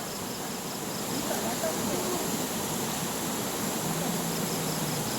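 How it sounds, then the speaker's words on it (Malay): A riverside campsite in Padang Rengas, Perak, with a clear river flowing over rocks, a faint, steady rushing wash of water that stays low and even throughout. "Tepi sungai."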